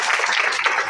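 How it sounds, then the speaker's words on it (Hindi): An audience at an Ayurveda company meeting claps for its guests: a dense, brief burst of close applause from many hands. "एक बार जोरदार ताली होनी चाहिए हमारे सभी मेहमानों।"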